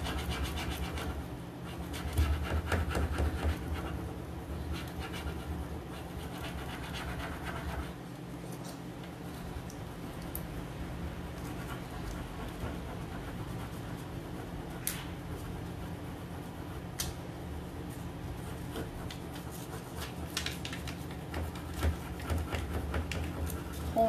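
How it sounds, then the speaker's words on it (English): A furniture transfer is rubbed onto a wooden piece with a fingernail, making faint, continuous dry scratching and rubbing close by, steady throughout with no speech. "Pulling it away as I rub the transfer on."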